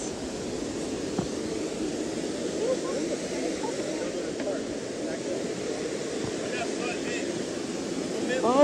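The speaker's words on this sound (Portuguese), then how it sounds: "Essa é a quarta cachoeira" Steady, broad rushing of falling water from a waterfall in Bonito, Mato Grosso do Sul, fills the scene, with people talking and exclaiming over it and occasional wind buffeting the microphone.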